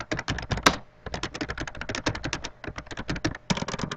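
Rapid, steady keystrokes on a computer keyboard, a dense run of close clicks with one sharper hit near the start and no talking.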